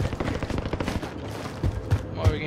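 Video game gunfire crackles in quick bursts of sharp shots, fairly faint and scattered, with a few heavier thumps near the end.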